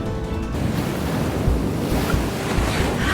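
Ocean surf and gusting wind in the video game Love and Deepspace, a steady rushing wash of waves with wind buffeting the microphone, continuous and fairly loud with no voices.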